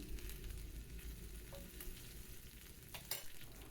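Mustard seeds and ginger-garlic paste sizzle in hot oil while kadhi is being made, giving a quiet, steady fry with a few light crackles and stirring scrapes and no talk.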